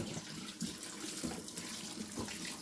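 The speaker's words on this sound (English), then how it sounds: "So into the sink with cold water," Cold tap water runs into a kitchen sink over a whole watermelon, a steady close splashing rush with faint knocks as the fruit is turned under the stream.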